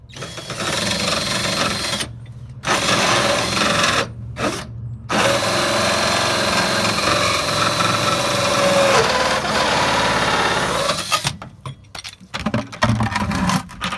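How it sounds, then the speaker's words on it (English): A power drill with a hole saw whines steadily and loudly while cutting a drain hole during a pickup fuel pump install, pausing briefly a few times and stopping near the end, with clattering afterward. "we're just going to drill a hole and let it drain"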